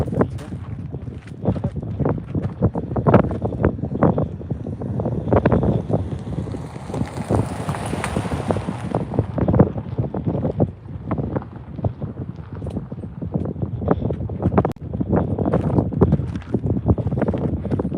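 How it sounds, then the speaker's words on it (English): Heavy wind near a supercell thunderstorm northwest of Clovis, New Mexico buffets the microphone in constant gusty rumbles, loud and close, with a voice talking intermittently underneath. "So it's gonna be a little bit windy, okay?"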